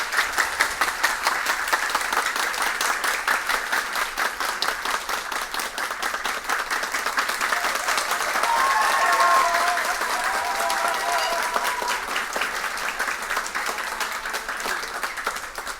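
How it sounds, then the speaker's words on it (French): A school audience at a lycée quiz match applauds warmly, dense sustained clapping that holds steady for about fifteen seconds and swells briefly in the middle before tapering slightly. "Je vous demande de les applaudir très chaudement, s'il vous plaît."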